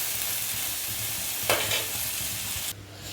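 Masala for a drumstick and potato sambar sautéing in a pan, giving a continuous close, even frying hiss with a brief stir-like swell midway before the sizzle drops away.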